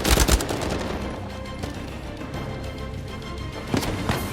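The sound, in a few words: gunfire in the video game Uncharted 4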